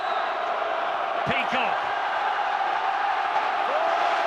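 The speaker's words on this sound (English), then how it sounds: "Listen to the crowd. The atmosphere is electric." A rugby league stadium crowd at a Hull versus Leeds match keeps up a constant, dense roar, with a few sharper shouts rising out of it, while a commentator talks over the noise.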